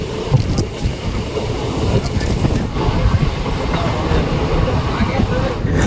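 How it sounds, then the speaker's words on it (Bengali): Steady rumble and rattle of a train rolling along the rails near Krishnapur station on the Lalgola–Murshidabad line, heard from inside a carriage, continuous and fairly loud with faint background voices. "আমরা এখন ট্রেনে আছি"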